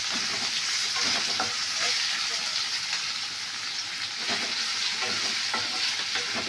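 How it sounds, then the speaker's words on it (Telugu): Onions frying with dried red chillies in hot oil give a steady, loud sizzle with scraping stirs throughout, heard up close with no talking. "ఆనియన్స్ అన్నీ వేసి వేయించుకోవాలి."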